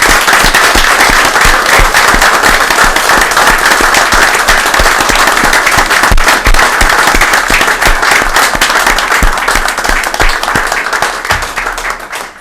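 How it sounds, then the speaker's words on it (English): Audience at a city council meeting clapping loudly and continuously in a dense, crackling burst of many hands, sustained for over ten seconds before thinning out at the end. "Tonight I would like to applaud Officers Wiegand and Connell for a job well done"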